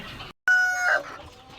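Small, aggressive chickens give one loud, sharp call lasting about half a second, close by, after a brief silence and with faint background noise on either side.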